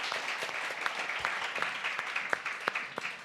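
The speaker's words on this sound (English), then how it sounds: "please join me in giving a round of applause to our speakers here" An audience at a panel discussion event claps steadily, a dense patter of many hands close by with no voices over it.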